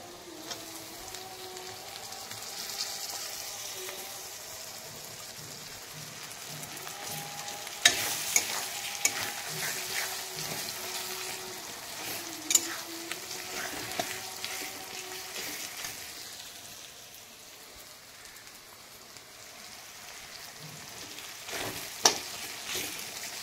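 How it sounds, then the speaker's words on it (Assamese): Chopped tomatoes fry in hot oil with a steady crackling sizzle. A spatula scrapes and taps against the pan now and then, each stroke close and sharp. "ইয়াত তেল এৰিব লৈছে এয়া কাটি থোৱা বিলাহীখিনি দি দিম"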